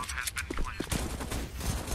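Rapid bursts of gunfire in a Counter-Strike match at a PGL Major qualifier, Cloud9 against GODSENT, with shots fired around a corner, cracking repeatedly over a steady backdrop of game noise and caster talk.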